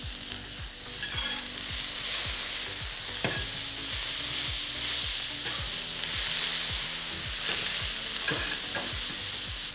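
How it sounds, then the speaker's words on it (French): Carrots and onions sizzle in olive oil on a plancha, a loud continuous crackling fry with regular clicks of stirring repeating throughout, close up and with no voices. "Je vais ajouter un peu d'huile d'olive sur mes carottes et mes oignons."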